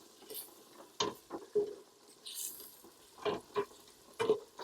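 Onions and garlic cook in a pan for a fresh Italian marinara: a low sizzle broken by several short scraping and stirring bursts and light clatters of a utensil against the pan.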